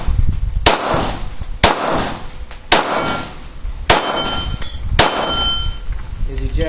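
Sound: Glock 19 Gen 4 firing, brass casings ejecting and clinking

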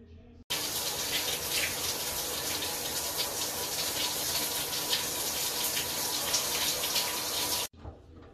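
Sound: shower water running

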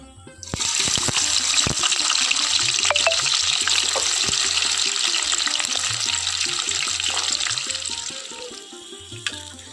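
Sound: onion frying in hot oil

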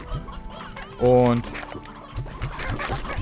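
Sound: chickens clucking in the video game Slime Rancher

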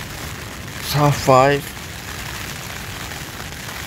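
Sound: wind and rain on a tent while camping in the forest

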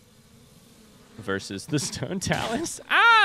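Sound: bees buzzing, from the video game Zelda: Breath of the Wild

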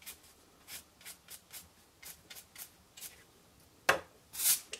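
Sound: paintbrush brushing excess embossing powder off card

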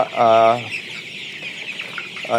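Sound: tiger chickens clucking

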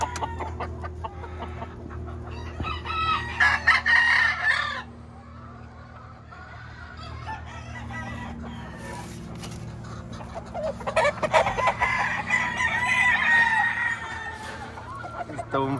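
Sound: young rooster crowing

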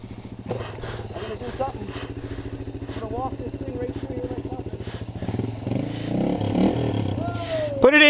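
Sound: Kawasaki or Yamaha dirt motorcycle engine idling at gully

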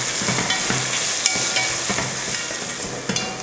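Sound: chopped onions being sautéed in a pan

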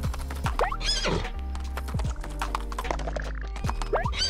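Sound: horse galloping and neighing in video game What The Golf

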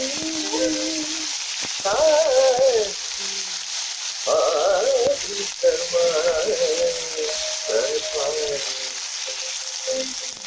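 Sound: ginger garlic paste and turmeric frying in a pan

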